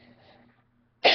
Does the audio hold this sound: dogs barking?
no